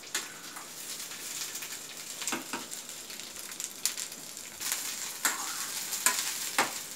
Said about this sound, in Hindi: थोड़ा सा इसको ऐसे चला के भूनने के बाद